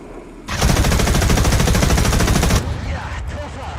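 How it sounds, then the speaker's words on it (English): Tank machine gun in War Thunder fires one loud, rapid sustained burst of about two seconds, then cuts off, leaving a softer rumbling tail and faint background noise. "those gun sounds though"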